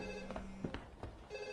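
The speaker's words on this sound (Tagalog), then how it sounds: "Sagutin niyo nga yung telepono!" A telephone rings in an office scene of a dubbed Korean action film, with short electronic ring bursts mixed among busy background sounds and faint noises in a brief moment.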